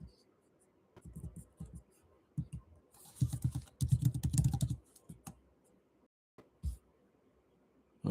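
Commands are typed on a computer keyboard during a Cisco networking lab, coming as quiet, close clusters of keystrokes that speed into a dense flurry midway, then thin to scattered taps.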